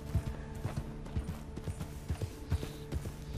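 Horse hooves clip-clop at a steady walking rhythm in the Western video game Red Dead Online, the starter horse's footfalls sounding near and clear with a faint low ambient hum underneath.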